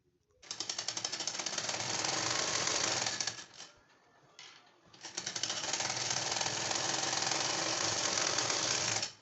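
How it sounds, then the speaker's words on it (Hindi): A sewing machine stitches a finishing seam along a blouse strip, running loud and steady, then briefly pausing before resuming at full speed for the rest of the stretch. "तो चलिए मैं इस पे भी सिलाई लगा लेती हूँ"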